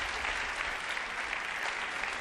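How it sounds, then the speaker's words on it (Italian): A theatre audience at a live comedy show gives dense, continuous applause, loud and even throughout with no voices over it. "Signori, applauso"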